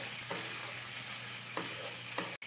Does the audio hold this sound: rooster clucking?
no